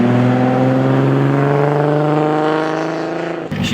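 A Nissan Skyline GT-R runs loud and close, its engine holding a steady droning rev for about three seconds before the sound drops away sharply, with no clear pass-by swell.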